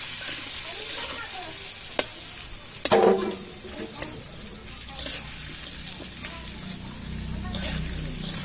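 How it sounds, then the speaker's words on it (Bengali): Potato pieces with salt and turmeric frying in a pan, with a continuous sizzle and occasional sharp scrapes and clatters from stirring. "আলুগুলো এবার ভালো করে লাল লাল করে ভেজে নেব।"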